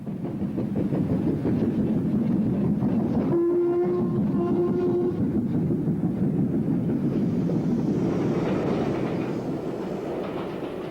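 A 1958 vintage steam train with banking engines rolls past a signal box on the Lickey Incline. Loud, continuous rumbling and clatter fill the scene, and two short whistle blasts sound partway through.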